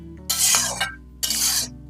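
Green chillies sautéing in a hot tempering for a large batch of kanda poha, giving two loud bursts of sizzling and stirring, each under a second, close up, separated by a short lull with no talk.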